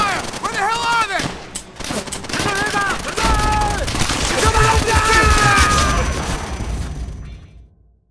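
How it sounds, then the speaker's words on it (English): Gunfire rattles through a Call of Duty: World at War battle, with rapid bursts and sharp shots running almost continuously under shouting voices before fading out at the end. "Sniper fire!"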